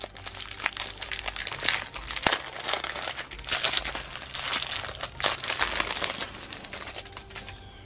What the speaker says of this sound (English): see if I can actually take that out of the plastic